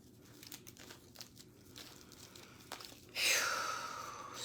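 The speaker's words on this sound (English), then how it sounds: "I'm going to shuffle the other deck now." A sudden burst of crisp papery riffling starts partway through, loud and close, after a few seconds of quiet room noise and faint taps.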